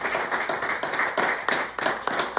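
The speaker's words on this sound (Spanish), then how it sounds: "Denle un aplauso al Señor" A church congregation claps for the Lord during a Spanish-language sermon, a steady rolling wave of many hands with rhythmic surges, fairly loud and without speech.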